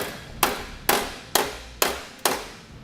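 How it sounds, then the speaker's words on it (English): Five evenly spaced, sharp hammer blows ring out close by as a metal alignment tab on the core support of a 2017 Jeep Cherokee is flattened, each strike decaying briefly before the next. "I'm personally going to take a hammer and just hit it until it's nice and flush sitting against the core support here."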